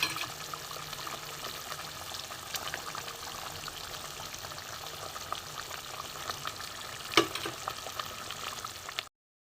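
Five eggs frying in a curry in a pan give a steady, fairly quiet sizzle and crackle throughout, with one brief sharper pop near the end before it cuts off.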